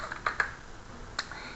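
Three or four light keystrokes on a computer keyboard as a macro name is typed into a spreadsheet program, sparse clicks spread over a quiet moment with no talking.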